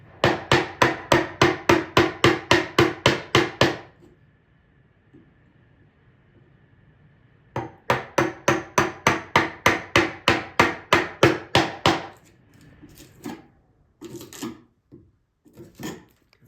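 Rapid, evenly spaced mallet blows on a chisel cutting a mortise in wood, two close, loud runs of about a dozen sharp knocks each separated by a pause, then a few scattered lighter taps.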